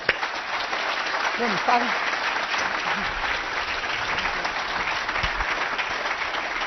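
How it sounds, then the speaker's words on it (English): An indoor audience at an evening fireside talk session breaks into a sustained round of applause, dense steady clapping lasting throughout, with a brief spoken remark near the start. "Let's give a little round of applause."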